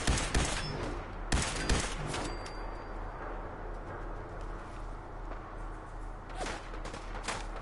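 Gunfire in the video game Fallout 4: several loud, sharp shots crack in quick clusters near the start, then a pause, then another burst of shots near the end.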